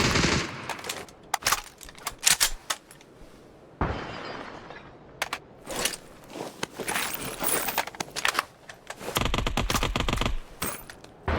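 Intense gunfire in the mobile battle-royale game PUBG Mobile: loud automatic bursts and rapid shots crowd the scene, with several sustained volleys and some glassy breaking impacts between shorter bursts.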